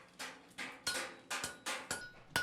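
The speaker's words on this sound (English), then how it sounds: "Hammers are used to shape the copper" Hammer blows shaping copper in a kettle-making shop, about eight sharp ringing metallic strikes in a steady, slightly uneven rhythm, loud and close with no voices.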